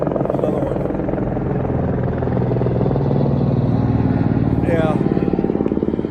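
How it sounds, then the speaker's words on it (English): A commercial tour helicopter flies over the Las Vegas Strip, its loud, rapid rotor chop thudding steadily overhead and swelling toward the end, with people talking underneath. "sometimes you'll see a whole line of helicopters"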